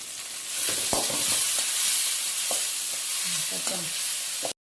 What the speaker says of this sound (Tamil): உப்பு போட்டு நல்லா வதக்கிறேன்.